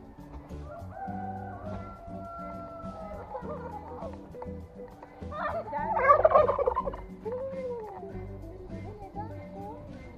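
Turkeys gobble in a loud, rapid burst in the middle, answering calls at a wildlife park in Kocaeli, with other fowl clucking and low background murmur around them.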